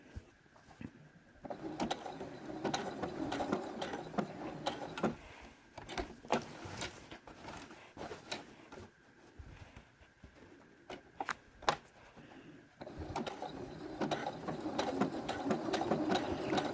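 A sewing machine stitches blanket-stitch applique on a star quilt panel, running in steady bursts with short pauses and fast mechanical clatter throughout, close and fairly loud with no talking.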